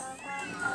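A cat meows once in a video game, a short, fairly faint, slightly drawn-out call heard alone without talk.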